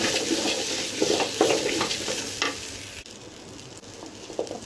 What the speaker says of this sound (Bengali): চালগুলো হচ্ছে এভাবে ভাজা ভাজা করে নিব।